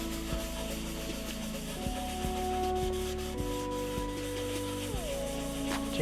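Rubbing oil finish into the dry wooden case of a 1973 Minimoog Model D, a close, soft, continuous scrubbing of cloth on wood with faint squeaks and a low background hum.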